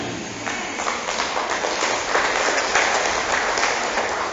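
Church congregation applauding during a service, a dense, steady wash of many hands clapping together that holds for the whole stretch without pause.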